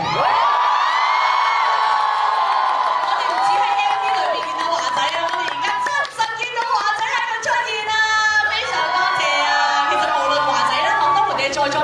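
A crowd cheers and whoops loudly, with excited high-pitched voices ringing out continuously for several seconds.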